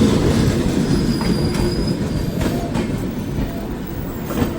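A Shaheed Express train rumbles loudly into Jagadhri station, its wheels squealing high and steady over the heavy rolling clatter of the cars.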